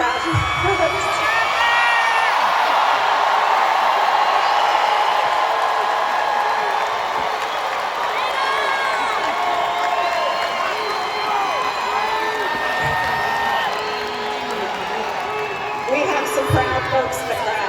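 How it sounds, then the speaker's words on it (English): A graduation crowd at Strayer University shouts and cheers, a dense wash of overlapping voices and whoops holding loud and steady throughout. "So you want to just get the shouts out now, shouting how proud you are."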